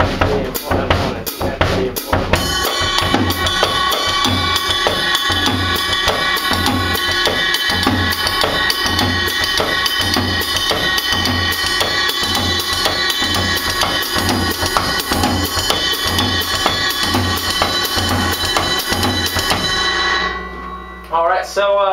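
A drum kit plays a basic samba beat at a quicker tempo, a steady driving pattern of bass drum pulses with rapid cymbal or rim ticks, loud and close, ending with a ringing cymbal.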